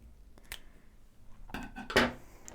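Scissors snip off the excess end of a zipper while a bomber jacket is being finished, giving a few short, close metallic cuts with a sharper, louder snip near the end.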